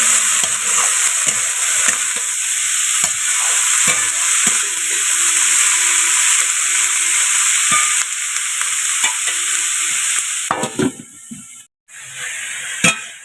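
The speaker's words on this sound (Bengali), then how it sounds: "লবণ দিয়ে ভেজে নেব সবজিগুলো" Vegetables frying with salt in a pan, a loud, steady hiss of sizzling oil with repeated stirring scrapes, close, then a few clinks and a brief pause near the end.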